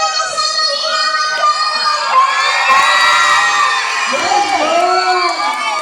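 A large concert crowd shouts and cheers loudly and continuously during a live song medley, with high children's screams and whoops rising above the roar throughout.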